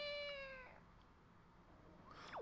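A single cat meow in Zelda: The Wind Waker HD, a short, clear, tonal cry at the start, followed by quiet and a faint second rising squeal near the end.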